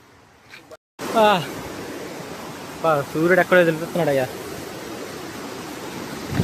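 Constant rushing water noise from a waterfall fills the background, while someone speaks briefly over it.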